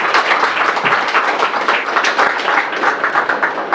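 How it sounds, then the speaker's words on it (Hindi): Loud crowd applause at a one-day health camp at a Brahma Kumaris centre in Delhi, a thick, continuous roar of many hands clapping at once that stays strong and even throughout, with no talk. "मैं चाहता हूं कि जोरदार तालियां उनके लिए होनी चाहिए"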